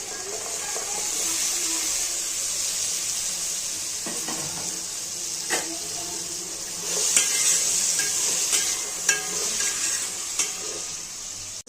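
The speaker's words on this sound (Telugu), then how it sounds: "ఇప్పుడు మనం రెడీ చేసుకున్న వెజిటేబుల్స్ అన్నిటిని ఒకసారిగా వేసేసుకుందాం." Mixed vegetables stir-frying in a hot pan for vegetable fried rice, a steady close hiss and sizzle with scattered scraping and stirring clatters, louder bursts near the end, no talking.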